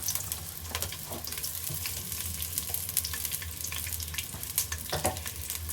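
Chopped onion frying in hot oil with a torn bay leaf, a continuous crackling sizzle up close with scattered sharp pops and stirring scrapes, no voices.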